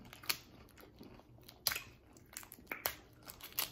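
Lobster with seafood sauce being eaten up close at a mukbang, with crisp bites, crunches and crinkling at irregular moments and soft chewing sounds between them, no talking.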